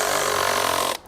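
Hikoki hydraulic impact driver running full power while driving a screw, a dense, steady whirring hammer at close range that cuts off abruptly near the end.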